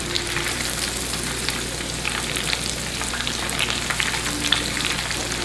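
Breaded chicken cordon bleu fries in a pan of hot oil, giving a steady, close crackling sizzle with scattered sharp pops throughout.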